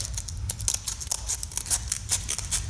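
Scissors snip through sandpaper for a band file in quick, close, crisp cuts, several short rasping strokes in a brisk rhythm.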